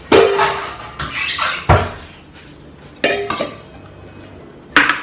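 Vegetables, onion, garlic and tomato, are scraped and tipped from a small bowl into a larger bowl, giving several sharp clinks and clatters of a utensil on the bowls between quieter rustling, close and fairly loud.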